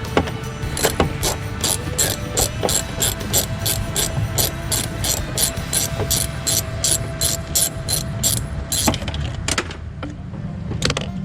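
A ratchet wrench clicks rapidly and steadily while unscrewing bolts on the rear hatch window of a Suburban, close and continuous for about nine seconds before trailing off.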